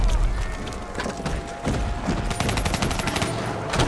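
Rapid gunfire in a zombies video game, with dense bursts of sharp shots rattling close and loud over several seconds, joined by mechanical clatter.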